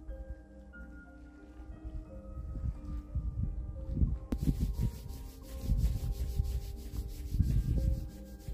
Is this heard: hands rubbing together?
yes